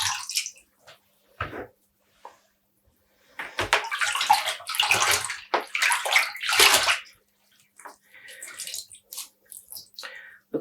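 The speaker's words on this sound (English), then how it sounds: "I'm not twisting the yarn, I'm just squeezing the water out." Water is squeezed by hand out of hand-dyed yarn, giving close, wet dripping and splashing in several short bursts and one longer stretch, alone without talk.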